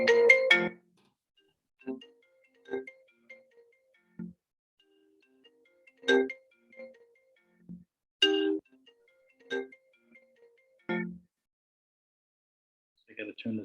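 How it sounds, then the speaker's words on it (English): A cell phone ringtone plays a repeating melodic pattern of tones in separate bursts, fairly loud and near, with gaps of silence between phrases during a leadership talk. "I got to turn the cell phone off."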